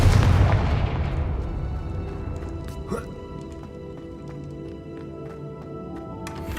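The Confringo explosive spell is cast in Hogwarts Legacy: a loud, deep boom erupts at the start and decays over a few seconds, followed by a sharper burst and scattered game effects with no talk.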